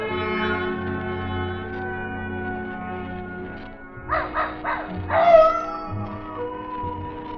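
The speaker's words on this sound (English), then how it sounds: "Old Nugget the dog was carrying on a long-distance conversation with his country cousins, the coyotes up in the hills." A dog barks in a radio drama effect, answering distant coyotes in the hills at night, a short burst of several yelping calls rising over sustained background music.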